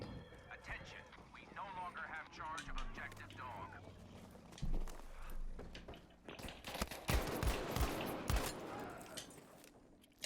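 Gunfire in the Battlefield V video game: bursts of shots crackle unevenly throughout, thickening into a heavy barrage near the end, while players talk over the fighting.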